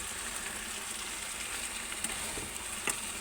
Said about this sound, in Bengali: আর কটা পাঁপড় ভাজবো তো